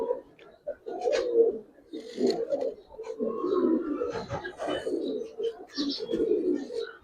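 Several pigeons, including a Giribaz, coo continuously at close range in low, throaty, overlapping rolls, with scattered sharper clicks and brief higher sounds over the top.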